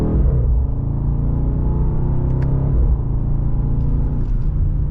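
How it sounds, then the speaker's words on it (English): A 2025 BMW M850i xDrive Gran Coupe pulls through a mild acceleration in sport mode and second gear, its engine a steady, loud, close rumble from inside the cabin with a slight dip in the middle, and no talk. "Just a mild acceleration."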